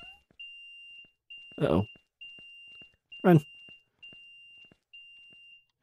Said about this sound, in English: God, that beeping is loud.